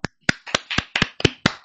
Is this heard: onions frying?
no